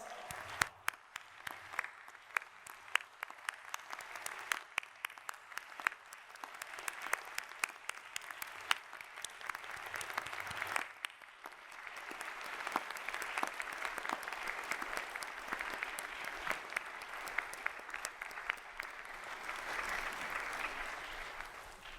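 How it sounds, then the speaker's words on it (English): A large crowd at a university convocation ceremony applauds steadily for over twenty seconds, the clapping dipping briefly midway before swelling again. "let's give them a warm round of applause"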